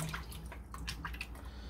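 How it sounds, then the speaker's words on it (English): Water sloshes and drips as potatoes are rinsed and rolled around in a Dutch oven pot, a short, close splashing and trickling with no talking. "we're going to rinse these a couple of times"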